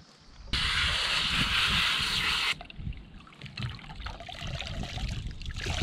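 Water drains out of a Honda Pioneer 700 during servicing, a steady hissing pour that suddenly stops after a couple of seconds, then gives way to a softer irregular trickle and splashing that runs on to the end.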